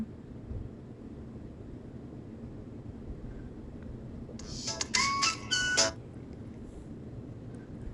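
A phone rings for an unknown scam caller, a short burst of bright electronic ringtone chimes lasting about a second and a half over a quiet room hiss. No one speaks.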